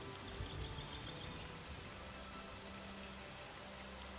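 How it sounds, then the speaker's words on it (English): Steady rain falls in the Oblivion game world, a soft continuous hiss of drops, fairly quiet and unbroken, with no talk over it. "take in the sights and take in the rain for a second"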